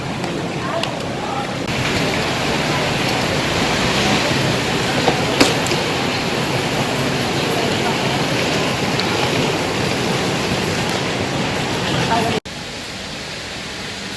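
Rain falling during a city outing in Bangkok, a dense, steady hiss of heavy rainfall close by, continuous throughout and dropping slightly quieter near the end.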